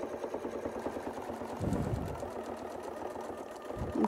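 A sewing machine quilting a curved line along a Westalee Artisan Curve template, its steady rapid stitching running close and continuous with a brief rise in motor sound partway through.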